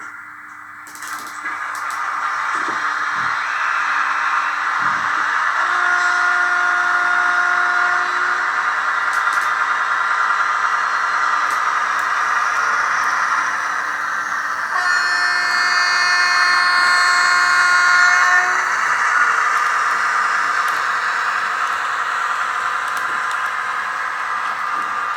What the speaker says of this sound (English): Listen to the brakes.